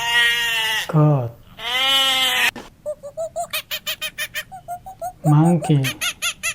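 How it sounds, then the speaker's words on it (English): Goat bleating in a loud, wavering series of long, quavering cries, with a run of shorter rhythmic bleats between them, close and clear with nothing else heard. "goat"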